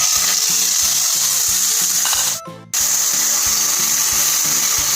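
Grated apple sizzles in ghee in a hot pan, a bright continuous frying hiss with a rhythmic stirring scrape, dropping out briefly before resuming at full strength.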